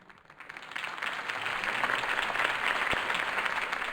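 A crowd applauds after a campaign speech for Harvey Dent, the clapping rising from a soft start into a steady, moderately distant wash of many hands.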